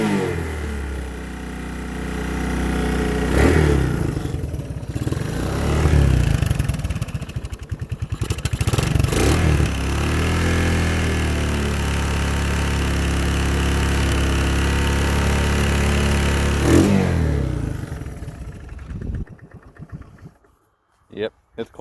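Cold start of a 1981 Honda 185s motorcycle engine: uneven sputtering and revving bursts settling into a rough idle, fairly close, with someone talking over parts of it before it cuts off near the end.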